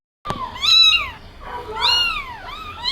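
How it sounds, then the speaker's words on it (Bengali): Kittens left on a rooftop meow twice, close and clear, each call a high, wavering cry with a short pause between them. "আর এই যে বিড়ালের ছানাগুলো দেখলে, ওগুলো ওদের মা আমাদের ছাদে রেখে গেছিলো।"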